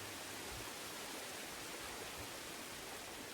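A waterfall in Star Wars Jedi: Fallen Order gives off a steady, faint wash of rushing water that sounds almost like rain, unbroken for the whole stretch.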